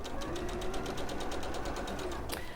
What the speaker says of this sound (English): you'll sew 1/4 of an inch down there